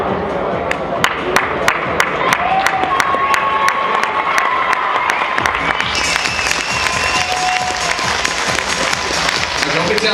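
A crowd applauds and cheers after a knockout in an amateur boxing bout, with dense sustained clapping that swells louder partway through while an announcer speaks over it.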